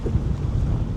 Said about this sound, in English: it got too windy that the sailboat even took its sails down